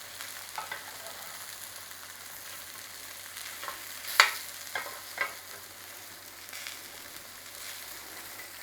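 Onions frying in a pan for mushroom halloumi burgers, a steady soft sizzle with a few louder crackles and spits, continuous and close, no talking.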